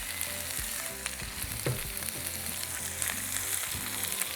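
Nopalitos with onion and salt fry steadily in a pan, a dense continuous sizzle with faint stirring scrapes and no voices over it.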